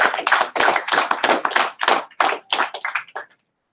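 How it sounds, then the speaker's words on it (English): An audience at a talk claps in a burst of applause, a dense patter of hands for about three seconds that thins into a few last claps and stops. "Clap it up now."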